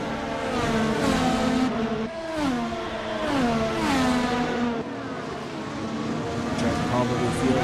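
Race cars lapping the Hungaroring circuit, their engines whining and sweeping up and down in pitch through gear changes, running continuously beneath a commentator's voice.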